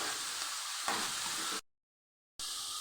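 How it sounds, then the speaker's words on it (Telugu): Onions frying in hot oil with salt give a close, even sizzling hiss that cuts out briefly to silence before resuming. "ఆయిల్ వేడి ఆనియన్ తొందరగా ఫ్రై కావాలంటే సాల్ట్ వేసుకోవాలి"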